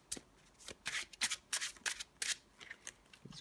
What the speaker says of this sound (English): I'll shuffle these up.